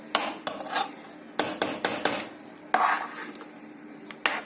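A utensil scraping and clinking against a cooking pot while tomato sauce is mixed, a string of sharp metallic knocks and rasping strokes in an uneven rhythm, close and fairly quiet.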